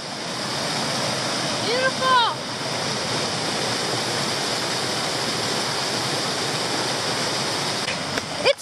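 Roaring waterfall on a rainy day, a dense continuous rush of falling water heard up close and loud, with a brief excited exclamation from a person riding over it.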